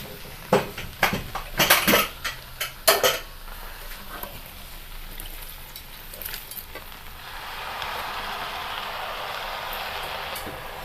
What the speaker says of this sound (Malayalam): ഇനി നമുക്ക് ബീഫ് ഇതിലേക്ക് ചേർത്ത് കൊടുക്കാം.